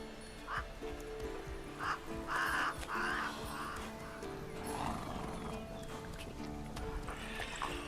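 Geralt's horse Roach in The Witcher 3 video game, hooves clip-clopping steadily with snorts and a whinny over ambient game sounds, medium distance and fairly quiet.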